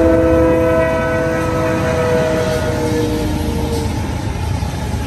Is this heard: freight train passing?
yes